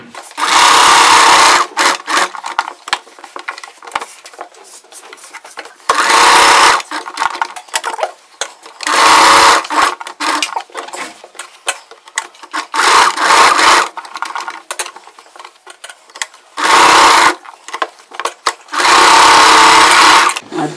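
A sewing machine stitches a neck piece for a layered frill chudidar, in loud bursts of rapid stitching separated by short pauses.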